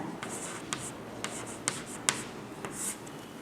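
Pen or pencil scratching an answer onto paper during a Hindi class exercise, soft continuous rubbing strokes with a few sharper taps, close and quiet, with no voice over it.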